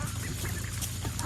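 Very large-breed chickens honk and cluck loudly close by, several birds calling over one another in a short, busy burst.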